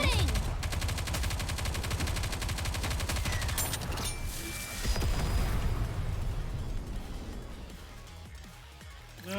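Rapid sustained gunfire from a battle in the shooting game Nikke: Goddess of Victory, dense crackling bursts running for several seconds before easing off, loud and close with music underneath.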